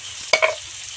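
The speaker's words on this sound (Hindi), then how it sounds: "मसाला को अच्छे से भून लेते हैं।" Masala spices fry and get stirred in a pan, a soft steady sizzle with a quick scrape of stirring, brief and close.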